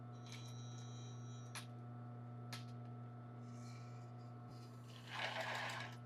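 Sewing machine stitching embroidered tulle fabric while the fabric is stretched open to the sides: a steady mechanical hum with a few soft clicks, and a louder, brighter burst of rapid stitching near the end.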